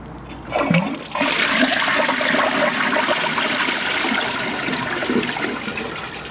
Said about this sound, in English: Second flush